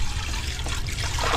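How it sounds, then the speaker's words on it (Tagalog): Water poured out steadily to bathe pet birds, a continuous close trickle and splash lasting a moment, alone with no voices. "magpapaligo tayo ng ibon par. Ready tayo ng tubig."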